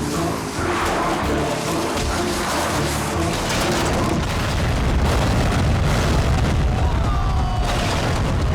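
A heavy explosion from an action movie, a deep booming roar that builds and rumbles on loudly for several seconds, with brief voices near the start.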